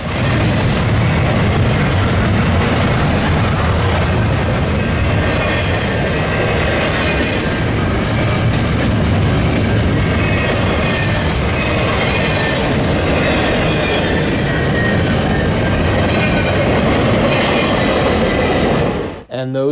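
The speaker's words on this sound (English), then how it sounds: "Not one, but two Norfolk Southern trains came at the exact same time" Two Norfolk Southern freight trains roll past at a junction, a loud, continuous rumble of wheels and railcars with clattering and faint squeals filling the whole stretch before cutting off abruptly at the end.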